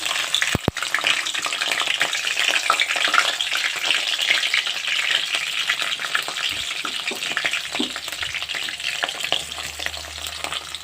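Green chillies frying in hot oil in a pan hiss loudly and continuously, a dense close sizzle with a few brief low thumps near the end.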